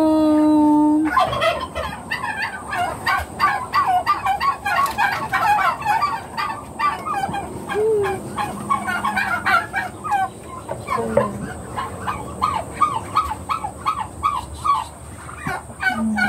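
Loud, repeated gobbling calls from a chicken close by on a farm, a rapid burbling chatter that runs nearly continuously with brief pauses.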